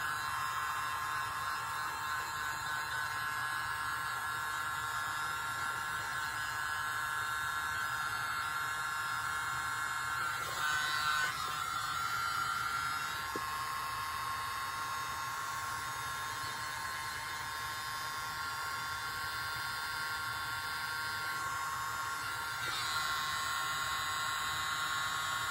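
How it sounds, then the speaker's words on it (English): A small handheld mini leaf blower runs continuously, giving a steady high-pitched motor whine with airy hiss, interrupted by a couple of brief shifts in pitch as it is moved; no one speaks over it. "All right, a mini leaf blower, and here we go."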